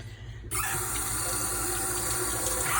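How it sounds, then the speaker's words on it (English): Tap water runs into a jar being rinsed out after making vegan cashew cheese, starting abruptly and flowing as a steady close splashing rush. "you just rinse all of the rest of that out of your jar"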